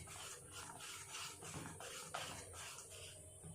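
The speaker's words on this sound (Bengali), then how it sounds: "বেশ কিছুক্ষণ ধরে এইভাবে ব্যাটারটাকে নাড়তে হবে।" Hand stirring of malpua batter in a bowl, soft repeated rubbing and scraping strokes in a quiet kitchen, with a small clink near the end.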